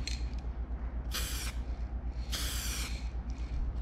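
Two bursts of aerosol spray paint hiss from a can during a test of the spray pattern while painting a motorcycle, each burst about a third to half a second long, over a steady low engine-like rumble.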